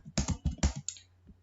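Quick bursts of typing on a computer keyboard, about five close, crisp keystroke clusters in rapid succession followed by a short quiet pause, heard alone without speech.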